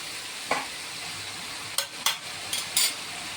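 Mutton and potato curry stirred in a pan, a soft background sizzle punctuated by a handful of quick scraping and clanking strokes of the spoon against the metal.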